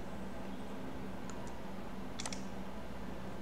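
Sharp computer mouse clicks while drawing mechanical parts in CAD software, a few isolated clicks close by over a steady background hiss, no talking.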